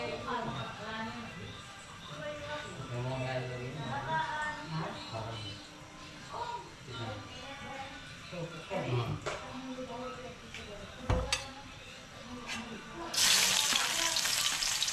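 Food sizzles and fries in a pan during home cooking, a steady crackle running under ongoing conversation, with clattering utensil knocks and a brighter hiss surging near the end.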